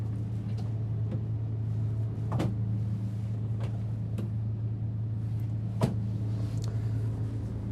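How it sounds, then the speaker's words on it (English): Dovetail-jointed soft-close drawers in an RV being shut, several soft thuds and clicks spaced a second or two apart over a constant low hum. "soft close drawers."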